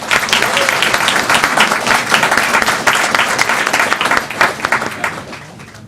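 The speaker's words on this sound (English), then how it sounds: "let's give our women's champion a big round of applause" Loud, dense applause from a board meeting audience honoring a women's wrestling champion, sustained clapping for about six seconds, with some voices mixed in under it.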